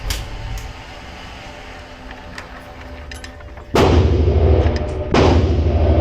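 A Cyelee Bull X Pro fires two loud, close shots after a stretch of quieter background, each a sharp burst followed by a sustained, broadband rush.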